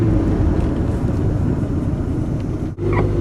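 A vehicle engine pulling in third gear, a dense, continuous low roar that stays loud and close throughout, with a brief sharp dip near the end.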